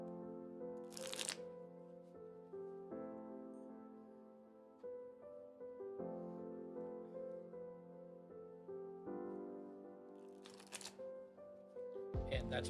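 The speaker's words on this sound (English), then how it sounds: "And then I will shuffle." A deck of Magic: The Gathering cards is shuffled during a Commander game, with crisp riffling bursts at the start and near the end over steady background music.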